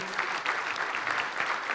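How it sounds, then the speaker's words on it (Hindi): Steady applause from an audience at a church Christmas carol program fills the short moment, a dense continuous patter of many hands with no talking over it. "आपकी जोरदार तालियों।"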